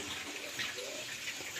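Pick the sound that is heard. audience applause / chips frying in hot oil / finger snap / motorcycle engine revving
chips frying in hot oil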